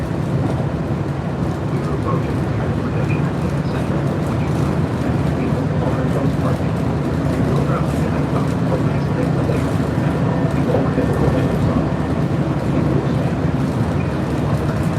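A Disney monorail glides along its track, a steady close rumble of wheels and motor filling the cabin without pause, with faint voices now and then beneath it.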